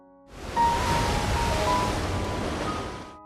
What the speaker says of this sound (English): struggling through crashing waves